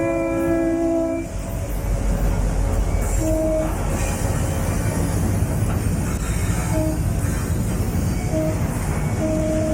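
Conrail westbound freight train passing through town, a loud chord horn blast opens, then continuous rumbling rail noise with short horn toots repeating near the end.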